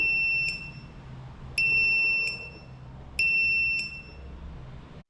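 A buzzer alarm wired to a magnetic reed sensor on a home's main gate sounds in five sharp, high electronic beeps, some short and some held, over a faint low background hum.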